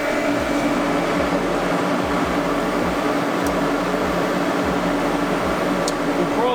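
A welder running on AC for aluminum gives a loud, constant buzzing hum with a steady electrical drone throughout, alone without speech.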